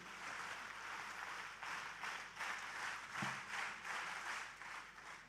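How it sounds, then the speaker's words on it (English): Applause from a seminar audience, faint and distant, sounding as a soft, rolling wash of many hands that swells and eases in slow pulses. "Ladies and gentlemen, another round of applause,"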